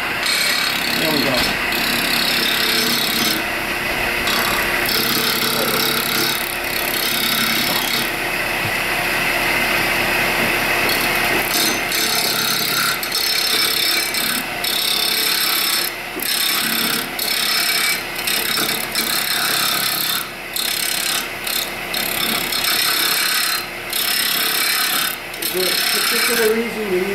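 A wooden piece spins on a lathe while a gouge cuts into it, giving a steady, close scraping and whirring that runs throughout with a voice talking over it.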